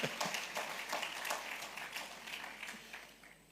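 A crowd applauds, many hands clapping in a dense patter that slowly fades toward the end, heard from within the room.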